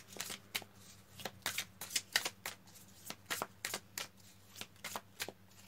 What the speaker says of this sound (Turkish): Şimdi de Rumi'den bir kart alalım